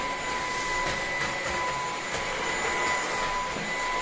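An Ultenic vacuum cleaner runs steadily and fairly loud with a constant broadband whoosh and a faint high whine, without pause and with no talking.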